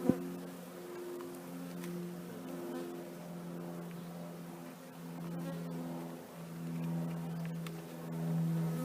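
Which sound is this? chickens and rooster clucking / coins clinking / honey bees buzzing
honey bees buzzing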